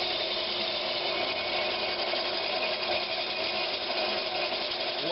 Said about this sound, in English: Keep your hacksaw moving. And just let it go. Let it work.